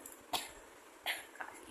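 Coughing from a woman with a cough, heard as three short, fairly faint bursts spaced across a quiet room background.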